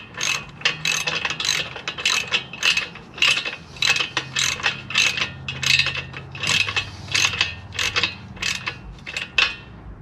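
Ratchet wrench tightening the brake bolts on a Lectric 3.0 electric bike during a brake recall fix, a close series of quick clicking bursts repeating in a steady rhythm, with no talk.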